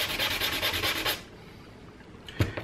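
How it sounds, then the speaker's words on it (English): Hand sanding with 220 grit sandpaper on a craft piece, a quick burst of rhythmic rasping strokes that stops abruptly, followed by quiet and a single faint knock. "I'm just going to take some sandpaper. It's just 220 grit, and I'm just going to sand this down a bit."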